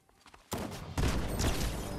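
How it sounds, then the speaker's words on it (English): Auto shotgun fire in Fortnite Chapter 5: after a faint lead-in, a loud blast erupts, then a second heavier volley follows into sustained rapid shots, close and alone with no talk. "the auto shotgun is crazy"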